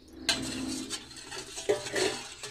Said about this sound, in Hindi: ये थोड़ा काला नमक है इसे अच्छे से मिक्स कर लेंगे